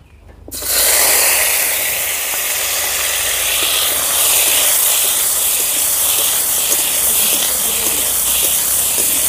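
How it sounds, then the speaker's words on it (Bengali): Homemade lentil dumplings (bori) drop into hot oil and fry in a pan, a sudden loud hiss that settles into a steady, close, sustained sizzle with no voices. "তেল গরম হয়ে গেছে, বড়িগুলো ভেজে নেব।"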